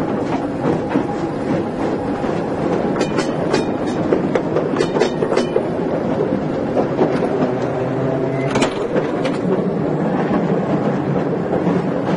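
An old train carriage rattles and clatters steadily, with irregular clicks and bumps over a continuous rumbling roar, close and loud.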